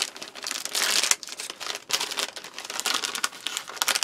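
Plastic packaging of a U.S. MRE accessory pack crinkles and rustles continuously as it is opened and handled close by, with no talk.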